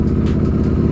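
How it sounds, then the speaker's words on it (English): A Ducati superbike on an icy 28-degree morning has its throttle cracked open, a loud close engine roar holding steady with a slight rough pulsing through a brief burst. "just cracking the throttle right there"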